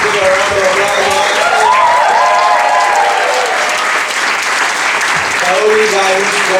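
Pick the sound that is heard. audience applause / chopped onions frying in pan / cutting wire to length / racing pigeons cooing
audience applause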